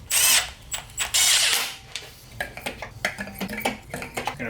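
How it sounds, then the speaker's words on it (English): Close metallic clanks, scrapes and light taps come from a valve cover being fitted onto a K-swapped engine in a rear-wheel-drive Nissan Cefiro, starting with a few loud bursts and then settling into a run of small irregular knocks. "Let's get this valve cover on."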